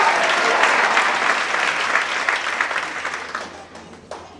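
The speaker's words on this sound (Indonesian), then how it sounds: "Berikan tepuk tangan yang lebih baik." A church congregation claps together during a worship service, a dense, loud wash of many hands that keeps going and slowly thins and softens toward the end.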